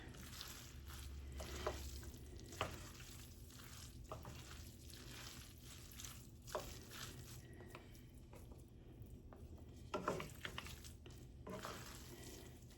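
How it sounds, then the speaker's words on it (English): A pound of pasta with shrimp is tossed in a big skillet, making faint wet squishing and soft scraping with occasional utensil taps against the pan, low in level and without speech. "This is a pretty big skillet, so like I said, it was a pound of pasta, so it'll take a little bit of tossing."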